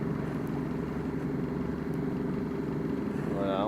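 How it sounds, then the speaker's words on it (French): A sailboat's motor drones steadily and close by as it pushes out through a channel in calm wind off Île d'Yeu, with a brief higher whine near the end. "pour mieux s'extirper de la passe avant la renverse, un petit coup de moteur"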